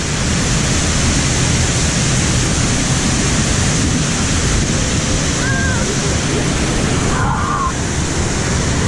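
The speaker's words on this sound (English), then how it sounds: "Oi, big waterfalls." Big waterfalls at the Efteling theme park give a loud, unbroken roar of rushing water. It fills the whole stretch, with a few brief faint voices under it.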